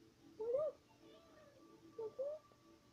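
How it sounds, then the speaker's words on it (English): A cat meows twice, with a pause between the rising, plaintive calls. The sound is faint and nearby in a quiet room. "He's meowing, he wants out."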